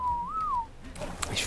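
A player whistles in the ARK: Extinction survival game, one clear rising-and-falling whistled note lasting about half a second, followed by faint clicks and a soft voice.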